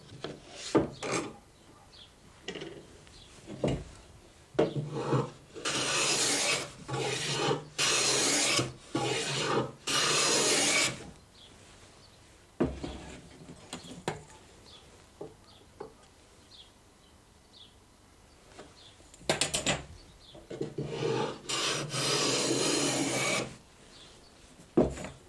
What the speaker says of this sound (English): So we should do that by planing them in the vise.